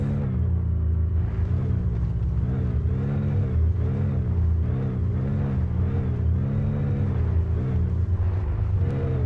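A buggy engine in the Spintires off-road driving game revs in repeated rising and falling surges, a loud, close mid-pitched drone that pulses steadily without pause and carries no talking.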